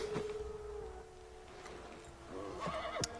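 A horse in the video game Assassin's Creed III whinnies with a rising, wavering call near the end, over quiet ambient background noise and a faint tone earlier.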